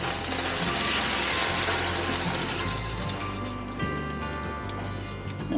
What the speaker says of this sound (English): Fire is going. Here they're popping.